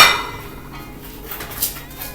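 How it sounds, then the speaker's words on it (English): A sheet pan of fries slides into an oven with a sharp metallic clank at the start, then light clinks and rattles of the tray and rack, close and moderately loud. "And we go ahead and put those in the oven."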